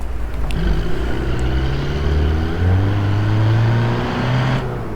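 Hyundai Creta in normal sports mode, no 4x4, revs and grinds over rough off-road ground in the BeamNG driving game, a steady droning engine note rising and falling in pitch throughout, fairly loud and close, with no talk.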